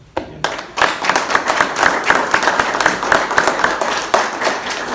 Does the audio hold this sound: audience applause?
yes